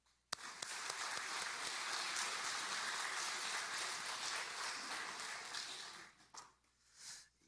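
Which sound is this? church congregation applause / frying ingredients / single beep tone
church congregation applause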